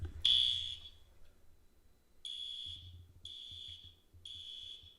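An alarm beeps in loud, high piercing tones: one long blast, a pause, then three shorter evenly spaced beeps, with faint low rumbling underneath.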